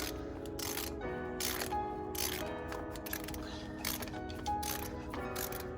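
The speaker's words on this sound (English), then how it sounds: "I'm gonna use the 10mm socket and the small ratchet to get this bolt off" A small ratchet with a 10mm socket loosening a bolt on a car, giving quick rhythmic clicking strokes in short bursts, close and fairly clear, with no talking over it.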